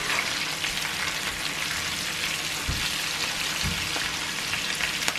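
Potatoes fry in oil in a pan with a steady, dense sizzle like rain, with a couple of soft low thumps partway through and no talking.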